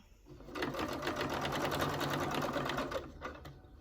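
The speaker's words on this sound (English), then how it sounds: "we're going to start stitching down this side" A domestic sewing machine stitches down the side of a quilt, a close, fast, even whirring run of needle strokes lasting about two and a half seconds before it slows and stops.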